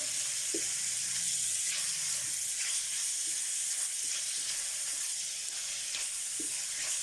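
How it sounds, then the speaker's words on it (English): Bacon pieces frying in about a tablespoon of oil until crisp, giving a steady, close sizzle and hiss that runs throughout with a few faint pops. "fry these off until they're crispy"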